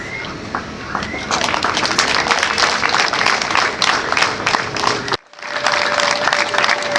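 An audience at a local sector council meeting in Musanze applauds its council members, sustained dense clapping from many hands, loud and close, with a brief dip near the end before the clapping resumes.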